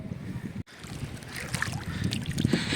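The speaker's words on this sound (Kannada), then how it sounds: "ಈಗ ನಾವು ಬೋಟ್ ರೇಸಿಂಗ್ ಹೋಗ್ತೀವಿ" A boat out on Rangarayana Doddi lake near Bangalore, with steady rushing water and wind buffeting the microphone; a brief dropout interrupts the noise early on, and no one speaks.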